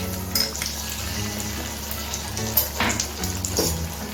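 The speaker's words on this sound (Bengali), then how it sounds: "একটু নেড়ে চেড়ে মিশিয়ে নিচ্ছি।" Garlic, chilli and ginger paste frying in a pan for egg curry, a steady close sizzle with occasional spoon scrapes and light clatter toward the end, no talking.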